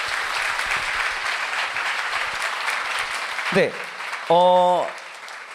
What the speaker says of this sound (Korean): 두 분께 모두 큰 박수 부탁드립니다.